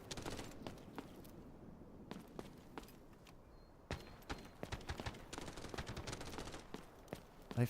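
Gunfire in the shooter game Delta Force, sharp cracks and bursts scattered across the stretch, some rapid and clustered, others isolated, moderately distant and without speech.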